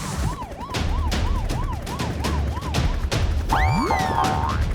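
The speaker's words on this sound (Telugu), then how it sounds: "సరిగ్గా అప్పుడే వాళ్ళు పోలీస్ సైరన్ సౌండ్ ని విన్నారు" A cartoon police siren wails in a steady repeating up-and-down pattern, loud and close, ending in a rising boing-like swoop with bright warbling tones.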